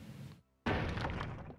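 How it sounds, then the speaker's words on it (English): Secret door opening in the retro 16-bit JRPG Ara Fell: a sudden crunchy crash of stone-like rumble bursts in after a brief quiet gap, loud at first and then grinding on briefly as it fades. "Another secret door opening suspiciously right after I took this ring."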